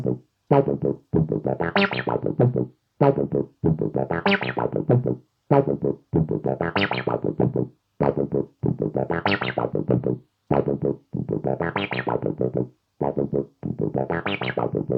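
A Korg Volca Nubass plays a looping distorted bassline, accented notes landing on the same steps as the transpose, loud repeating phrases with short gaps between them and no voice over the top.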